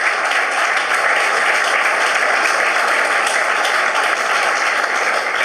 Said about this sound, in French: moi je vous propose d'applaudir nos différents intervenants